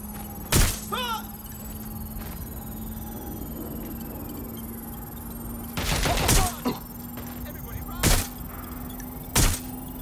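Sharp bursts of video game gunfire from Watch Dogs: Legion crack out in separate volleys over a steady humming, buzzing background, with short gaps between shots.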